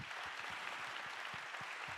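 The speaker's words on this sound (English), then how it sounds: "let's give him a warm round of applause" A cultural summit audience in a Hong Kong theatre applauds a speaker, giving steady, even clapping from a large crowd, continuous and moderately distant with no voices on top.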